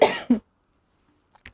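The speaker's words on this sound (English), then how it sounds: "That was a surprise cough" A sudden close cough, two quick harsh bursts followed by a brief pause and a softer short cough.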